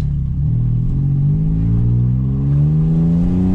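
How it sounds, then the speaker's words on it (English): A hybrid car running with no battery accelerates slowly, its engine note rising steadily in a loud, close, continuous drone with no voices. "It does not accelerate very fast."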